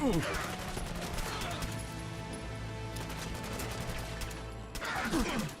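Gunshots ring out in Fallout: London, sharp cracks at the start and again near the end around a steady game backdrop, with a voice faintly present.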